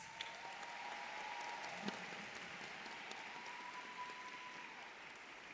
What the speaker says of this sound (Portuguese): eu peço uma salva de palmas para vocês